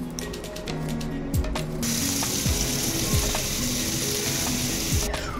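Garlic and chilli paste sizzling in hot oil for a quick prawn dish, a steady close crackle with scraping stirs and a few clinks from the pan, carrying on without talk.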